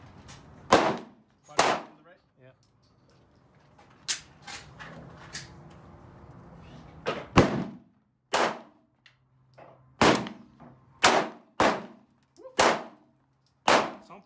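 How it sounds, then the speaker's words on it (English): A 9mm pistol is fired at an outdoor shooting range, with about a dozen sharp, loud cracks spaced irregularly, some in quick pairs, and a stretch of quieter background murmur between shots. "Agora eu vou tentar atirar com a pistola de 9mm"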